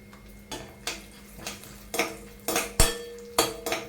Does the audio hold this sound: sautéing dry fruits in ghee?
yes